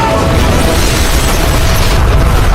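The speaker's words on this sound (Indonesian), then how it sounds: "pesawat meledak" An airplane blows up in a movie scene, a loud, sustained roaring blast with heavy low rumble that fills the whole stretch without letup.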